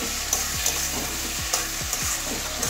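Potato and prawns frying in an uncovered pan after three or four minutes under the lid, a steady loud sizzle broken by repeated rhythmic spatula scrapes and taps.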